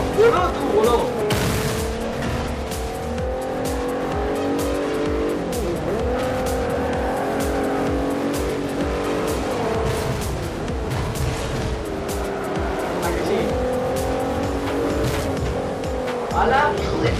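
Racing cars in the Forza video game roar continuously at close range, with tires squealing and skidding over steady engine drone, while players talk and shout excitedly throughout.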